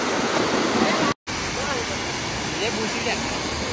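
Loud, continuous rushing water pours down Tiger Waterfall near Lonavala without pause, a dense roaring wash that fills the scene, cut by a brief silent gap.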